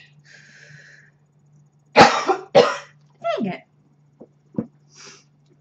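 A person with ALS coughs in a quiet indoor room: two loud, harsh coughs, then a rougher, weaker one, and a few short throat sounds. A brief spoken remark comes between them.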